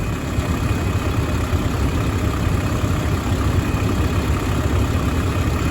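A four-wheeler ATV engine labours steadily as it pulls a hay bale on a farm, a loud, close, continuous rumbling drone that holds an even level throughout with no voices.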